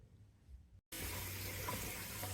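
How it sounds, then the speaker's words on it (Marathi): Spring onion greens are washed under clean running tap water in a sink; after a quiet moment and a brief gap, a steady, fairly close stream of water pours continuously. "आपण कांदापात स्वच्छ पाण्याने धुवून घेऊया"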